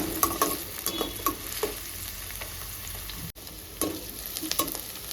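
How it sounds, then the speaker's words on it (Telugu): Mutton liver frying in a pan until golden, a steady crackling sizzle with intermittent stirring scrapes, close and moderately loud, briefly cutting out for an instant. "బాగా ఫ్రై చేసుకోవాలి గోల్డెన్ కలర్ వచ్చే వరకు"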